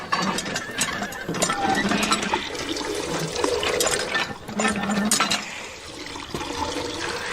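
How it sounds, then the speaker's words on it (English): Water runs steadily into a small bucket outdoors on a ranch, a continuous splashing, gurgling pour that stays fairly loud and close throughout, with a few faint clanks mixed in. "This bucket is so small. It's like 3 trips to get enough water."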